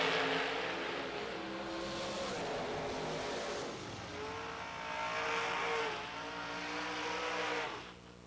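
Junior dragster race cars at a drag race, round one eliminations, roar loudly with engine revs rising and falling, one surge after another, up close and without pause.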